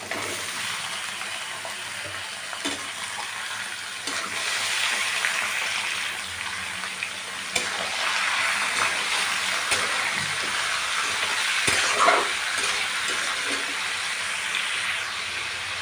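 Onion and chicken fry in a pan for an Assamese chicken and jackfruit dish, giving a steady, close hiss and sizzle with occasional crackles and pops, running alone throughout.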